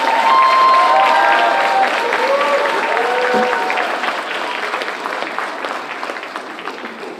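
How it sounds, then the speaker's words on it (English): Audience applause at a college communications studies speech competition, a dense, steady wash of clapping from a large crowd that starts full and gradually thins and softens toward the end. "If we could please have one more round of applause as all of our contestants and their instructors come to the"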